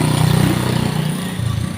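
Motorcycles pass on an evening road in a steady, loud, close drone of mid-pitched engines with slight revving, continuous with no talking.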